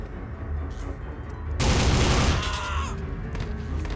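A burst of gunfire and explosions in a video game breaks out suddenly in a dense, loud roar over a constant background rumble, then fades back to lower battle noise.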